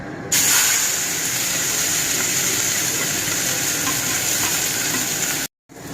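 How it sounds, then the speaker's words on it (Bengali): Onions fry in a kadai, a loud, dense and steady sizzle that starts abruptly and runs evenly before a brief drop-out near the end. "দেখো পেঁয়াজ ভাজছে।"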